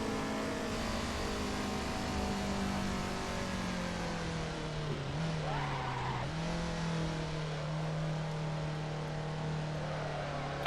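A Ferrari F40 engine in the racing game Assetto Corsa drones steadily at high revs, its pitch sagging briefly midway before climbing back to a sustained, buzzing tone.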